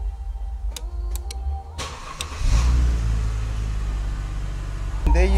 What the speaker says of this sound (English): I've now started the car